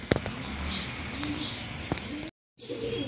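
Racing pigeons arrive home after a training race in Padre Burgos, Quezon. Cooing and wing flaps sound close by with a few sharp clattering hits, then a brief silence before the birds are heard again.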